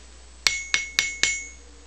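Four ringing hammer blows, evenly spaced, strike a 110-pound anvil bought at Princess Auto. Each sharp metallic clang is close and clear and decays briefly before the next.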